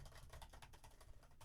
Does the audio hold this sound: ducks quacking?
no